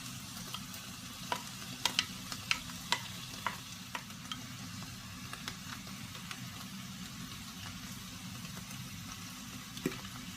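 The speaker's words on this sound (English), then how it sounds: "we're going to carefully put our onion into the oil. I'm going to stir that for 5-6 minutes" Chopped onion frying in hot oil for a homemade tomato sauce while being stirred, a soft steady sizzle with scattered light pops and scraping clicks, heard close and alone.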